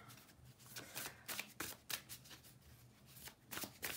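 Tarot cards are drawn and riffled from a deck close up, quiet crisp flicks and shuffling snaps in quick irregular succession, with no voices.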